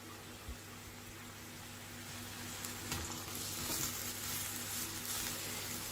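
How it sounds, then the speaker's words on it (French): Vegetables for pumpkin soup sauté with thyme in a pot, giving a steady, even sizzle and frying hiss throughout with occasional faint stirring clicks, no voices over it. "Je vais le faire revenir pendant à peu près 8 minutes"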